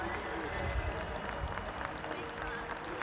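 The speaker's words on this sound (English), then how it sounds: "Let's give a round of applause and encouragement for Tylee and our honorary captain." A stadium crowd at a college spring football game applauds for a wide receiver, with diffuse clapping and cheering that echoes across the stands and a steady roar that sounds distant and reverberant.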